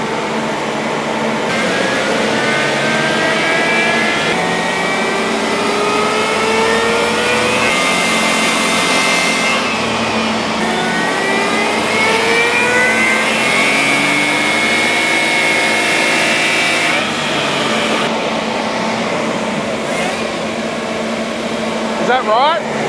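A supercharged Daihatsu Midget engine revving on a dyno, loud and close, with whining pitch sweeps rising and falling through repeated pulls and a steady supercharger whine sustained across the run.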